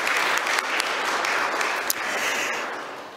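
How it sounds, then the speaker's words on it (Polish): Applause at a dental school diploma ceremony at the Medical University of Białystok, congratulating new dentists; a full, sustained wash of clapping from a large hall audience, steady and fairly loud, with no speech over it. "Raz jeszcze duże brawa."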